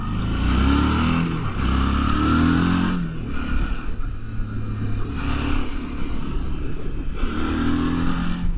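A Suzuki V-Strom motorcycle ridden hard, its engine roaring loudly with rising and falling revs and gear changes, steady wind-blown drone throughout, recorded close from the bike.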